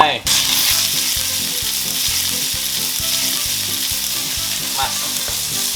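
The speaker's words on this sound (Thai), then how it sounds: "ใส่หมูสับลงไป" Minced pork stir-fries in a wok with chilli and garlic for a holy-basil dry instant noodle dish: a loud, steady sizzle with a regular scraping rhythm of stirring throughout.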